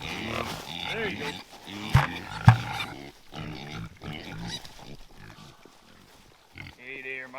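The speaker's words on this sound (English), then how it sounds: "We feed our pigs twice a day." Pigs on a 26-acre homestead farm grunt and squeal while being fed, with a couple of sharp bangs and a person talking over the animal noises throughout.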